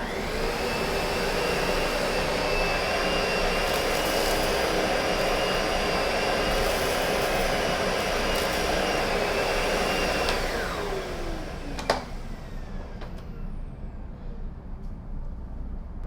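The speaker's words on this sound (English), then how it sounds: "Again, a very pleasant sound for a vacuum cleaner." A Lindhaus HF6 vacuum cleaner runs with its PB14 power nozzle switched on, giving a loud, steady whine and airflow rush for about ten seconds before it winds down to a quieter hum.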